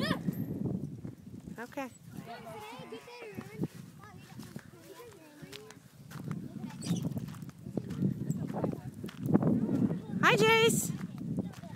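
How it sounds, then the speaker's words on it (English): A horse is ridden nearby, its hooves clopping in a loose rhythm under a running backdrop of people chatting and greeting each other, with a brief higher whinny-like sound near the end. "riding his horse"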